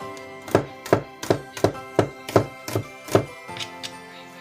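A knife chops through acorn squash on a cutting board in about nine sharp, evenly spaced thunks, close and clear, the last few strikes softer and quicker.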